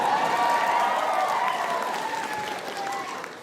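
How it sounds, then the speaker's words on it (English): Comedy stand-up audience breaking into loud, sustained applause with whoops and cheers, a dense wash of clapping that carries through the clip and tapers slightly toward the end. "You may whoop and cheer"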